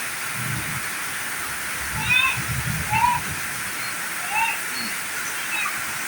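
Floodwater running through a flooded neighbourhood: a continuous broad rushing hiss, with scattered bird chirps and faint low voices now and then in the background.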